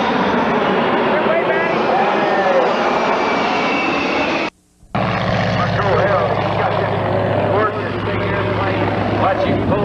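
Jet aircraft engines roaring at a 1995 airshow, a loud continuous broadband rumble with a brief dropout midway, then a steady low drone resuming, with a commentator talking over it throughout.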